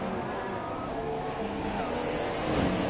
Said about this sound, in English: You can just hear the muffled sounds of the cars driving around the Red Bull Ring.